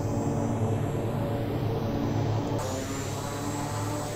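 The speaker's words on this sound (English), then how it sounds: "Plane, are you going to take off?" Embraer EMB-120 turboprop airliner taking off in Flight Simulator X, a steady, loud engine drone with a broad hum and a high whine held throughout, easing slightly partway through.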